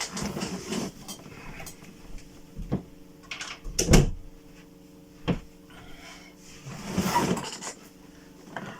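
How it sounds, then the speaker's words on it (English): Indoor door sounds: a few sharp thuds and clicks spaced across several seconds, including a firm knock-like bang as a door is pushed shut, with faint shuffling between and no talking. "I'm gonna go shut that door."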